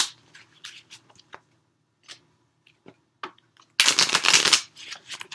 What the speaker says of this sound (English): one last shuffle like this for Pisces